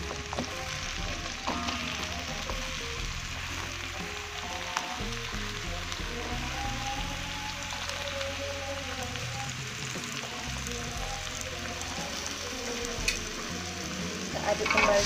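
Bottle gourd stir-frying in a pan, with a continuous close sizzle and crackle and occasional stirring clatter that holds steady throughout.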